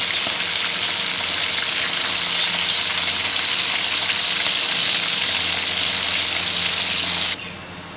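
Fish pieces fry in oil in a pan until lightly golden, a loud, dense, unbroken sizzle that cuts off sharply near the end, no voices.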